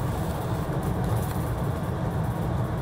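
A Shonan Monorail train runs between Shonan-Fukasawa and Shonan-Enoshima, giving a steady, loud, continuous rumble and rolling hum from on board with no talking.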